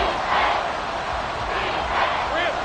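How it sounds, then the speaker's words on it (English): A stadium crowd roars in a Madden football video game on third and long, a dense, steady wall of cheering that swells slightly as it builds. "This crowd turning up the decibel level."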